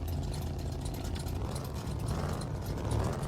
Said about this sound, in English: I still can't get over this sound this engine makes